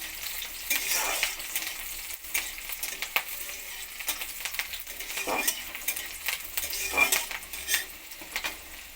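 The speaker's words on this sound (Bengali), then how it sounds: "রসুন কুচি কাঁচা লঙ্কা কুচি একসঙ্গে ভেজে নেব" Hissing sizzle of chopped garlic and green chilli frying in a pan, with repeated metallic scrapes and clinks of a spatula stirring throughout.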